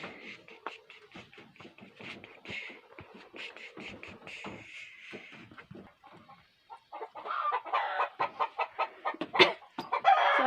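Chickens cluck and a rooster crows near a home, in uneven bursts that grow louder and busier toward the end.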